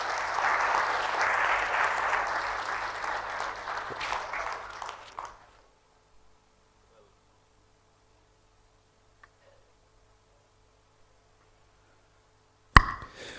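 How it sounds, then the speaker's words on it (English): Audience at the 10th Edition AGBA ceremony applauds after a speech: strong, dense clapping that thins out and stops around five seconds, followed by near silence and a sharp knock near the end. "Please, a thunderous round of applause"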